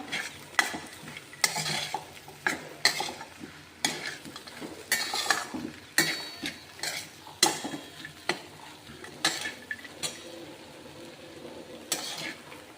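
A spoon stirs and mixes Sushila, a Marathwada-style puffed rice dish, in a sizzling pan, repeated scraping strokes and metallic taps at a steady rhythm over a soft, continuous fry, close and without talk.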